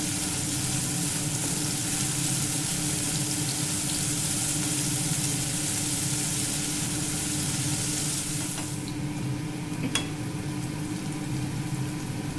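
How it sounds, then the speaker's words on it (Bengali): Ginger garlic paste fries in hot oil with a constant dense sizzle, while occasional scrapes and taps of a spoon stir it through the pan. "তেলটা একটু গরম হলে আদা রসুনের পেস্টটা দিয়ে দিলাম। দিয়ে একটু নাড়াচাড়া করবো।"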